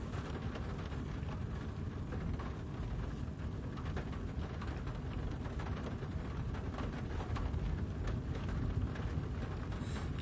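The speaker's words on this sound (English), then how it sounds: "I'm looking at a very energetic thunderstorm." Steady rain and rumbling from an energetic thunderstorm, heard as a continuous dense wash of noise with low rolling thunder underneath throughout.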